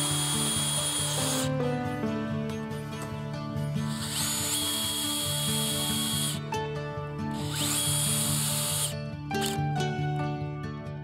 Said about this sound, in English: I pre-drilled for the latch so we don't split the wood any more than we already have.